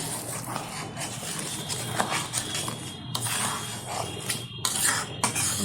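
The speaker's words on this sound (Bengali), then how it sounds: "ভালোভাবে মিশিয়ে দিচ্ছি চিনিটা ফিনির সাথে" A spoon stirs sugar into thick phirni pudding in a pot, making continuous close scraping and clinking against the metal, uneven in rhythm, with no talk.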